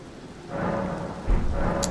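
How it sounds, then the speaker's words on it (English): Rain and thunder in Elden Ring's Erdtree area as late-day weather turns: a steady hiss of rainfall that swells midway, then a deeper rumble of thunder building near the end, with no talking. "Ooh, rain."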